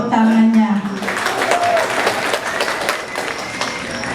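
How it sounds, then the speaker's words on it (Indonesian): At a village planning meeting in Indonesia, an audience gives scattered applause that continues for a few seconds, with a voice talking at the start. "Terima kasih Bu Inggi, tepuk tangannya."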